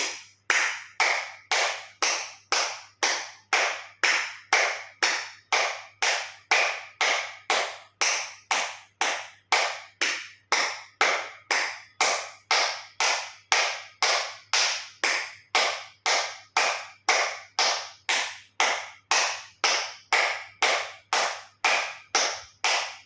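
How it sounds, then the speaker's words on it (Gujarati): Forceful acupressure clapping, whole palms, fingers and thumbs striking together, roughly 50 loud sharp claps in a steady fast rhythm with no one talking. "એક્યુપ્રેશર તાળી પૂરેપૂરા હથેળી અને આંગળા અંગૂઠા બધું ટચ થાય એ રીતે જોરથી 50 વખત તાળી આપીશું."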